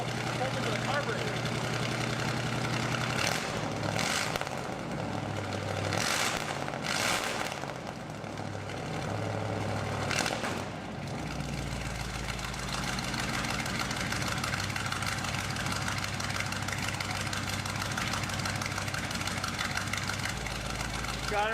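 A 1964 Chevelle El Camino with a carbureted engine idles steadily and fairly loud throughout, coming down off high idle, with bursts of louder revving early on and someone talking over it.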